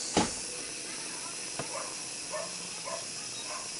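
A COSORI pressure cooker vents high pressure in a steady, broad hiss of steam that runs throughout, with a sharp click near the start and faint background voices or game sounds under the rush.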